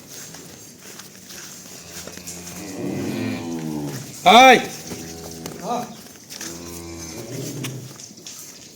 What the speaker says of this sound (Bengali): দেখছেন গরুটা দেখছেন, বিশাল গরু মিক্সের গরু একদম।